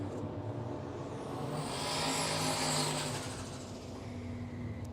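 A Toyota Hilux launches in a drag race at Willowbank Raceway, a loud engine roar that swells and then eases over a few seconds with a steady low drone beneath.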